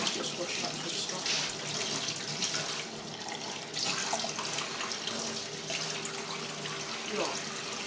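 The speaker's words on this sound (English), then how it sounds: "I'll just wash up this stuff." Tap water runs steadily into a sink during washing up, a continuous broadband splashing rush that fills the whole stretch with slight dips in intensity, close by and fairly loud.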